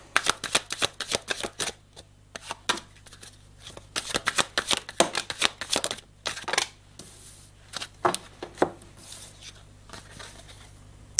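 An oracle card deck, the Ombre et Lumière set, is shuffled by hand in quick riffling bursts of crisp card clatter, close and in repeated runs with brief pauses between them.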